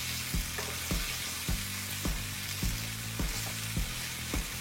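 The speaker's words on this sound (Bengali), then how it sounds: "এবার আমি আলতোভাবে উল্টিয়ে পাল্টিয়ে মটরশুঁটিগুলো ভেজে নিব।" Green peas frying in a pan, gently turned over, with a steady close sizzle under a regular series of soft scraping stirs roughly every half second, no voices.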